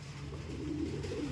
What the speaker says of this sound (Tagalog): Yan o mga ibon natin